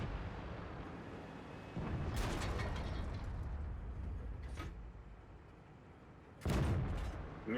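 A tank shell striking armor without penetrating in World of Tanks, heard from a KV-5 heavy tank: heavy booming impacts and cannon blasts over a constant engine rumble, two loud hits standing out, no voices.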